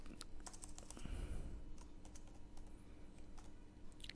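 Computer keys clack in quick irregular bursts with short pauses as someone types into diagnostic management software, faint and close over a quiet room with no voices.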